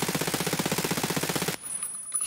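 Rapid automatic gunfire with APSX 5.45 ammo in Escape from Tarkov, a steady fast burst of loud shots that stops abruptly, leaving a quiet tail.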